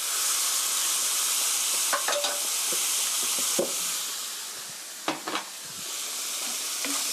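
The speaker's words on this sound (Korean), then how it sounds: "잡냄새 날아가게 이렇게 한번 볶아주세요." Meat stir-fried in a pan with a splash of cheongju rice wine gives a loud, continuous broadband sizzle and hiss, with occasional spatula clicks and scrapes cutting through.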